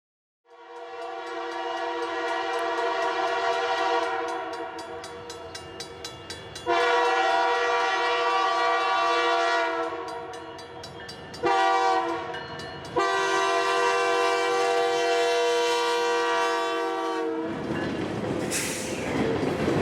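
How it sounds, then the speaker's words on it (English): A Canadian Pacific train on the Rockland Subdivision near Waldoboro sounds its horn in long, loud blasts with short breaks, the chord holding steady as it passes, with rumbling and a brief squeal near the end. "I just barely beat the train to Waldoboro"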